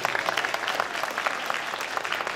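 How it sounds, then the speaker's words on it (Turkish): A crowd at an outdoor promotional festival in Ankara applauds, a dense, steady clatter of many hands clapping at once, sustained throughout at moderate distance with no speech over it. "Ben güçlü bir alkış daha istiyorum federasyona"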